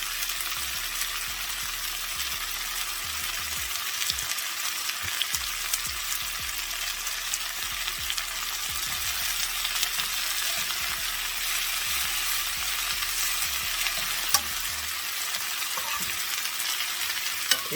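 Broccoli crowns and bacon sautéing in a hot pan, a steady broad sizzle running throughout, broken by repeated scraping stirs and clinks of a utensil against the pan, close and even in level.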